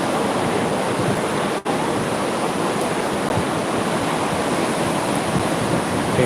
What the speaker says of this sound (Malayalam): വെള്ളമൊക്കെ നല്ലോണം കയറി കടലിങ്ങോട്ടേക്ക് അടുത്തുകൊണ്ടിരിക്കുകയാണ്